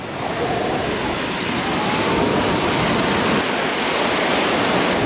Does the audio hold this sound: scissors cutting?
no